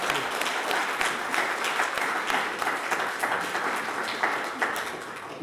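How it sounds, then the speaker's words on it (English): Conference audience applauding speakers at a panel on EU strategy toward China and East Asia, steady crisp clapping from a room of people that fills the stretch and tapers slightly near the end. "a big round of applause to our three excellent speakers for your remarks."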